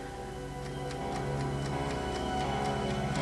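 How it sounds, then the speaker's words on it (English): Several clocks ticking together in a steady, overlapping rhythm, sharp clicks repeating about every quarter second over a busy background hum. "I saw clocks ticking."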